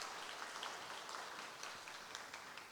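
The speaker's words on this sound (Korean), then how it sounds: "우리 영유아부를 위해서도 한번 큰 박수로 격려해 주시기 바랍니다." A church congregation claps together during a Sunday worship service, a steady wash of dense applause held at even loudness throughout, with no voices over it.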